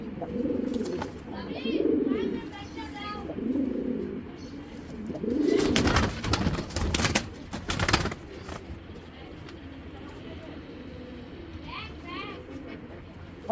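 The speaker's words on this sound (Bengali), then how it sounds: "কবুতরটা ছেড়ে দেখেন" A khaki Giribaz pigeon is let go, bringing a loud, close burst of flapping wings in the middle. Soft cooing and other bird sounds come before and after, with people talking nearby.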